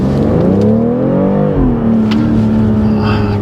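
A 2025 BMW X3 M50i with its B58 engine in sport mode revs up in a steady, loud pull, the engine pitch climbing, dipping briefly, then holding an even drone close by.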